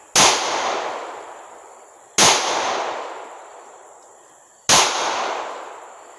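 A 9mm handgun fires three loud, sharp shots spaced about two seconds apart, each crack followed by a long decaying echo outdoors.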